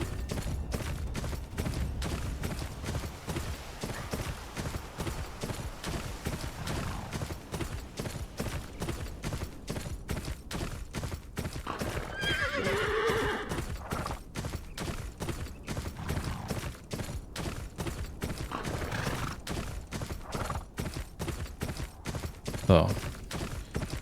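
Horse hooves clop in a steady, fast rhythm during riding in the video game Game of Thrones Kingsroad, a continuous galloping beat with faint game effects layered over it.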